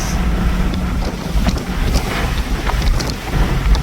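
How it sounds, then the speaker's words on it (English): Heavy, fluttering wind buffeting inside a Mazda Miata RF driven with the roof off, a loud continuous roar with uneven pulses of gusting air and no talk. "This wind buffeting is ridiculous."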